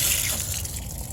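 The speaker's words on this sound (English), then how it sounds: "which you can start by doing at a hose bib" Water runs steadily out of an outdoor hose bib on a house being drained, a continuous close gushing splash with no pause.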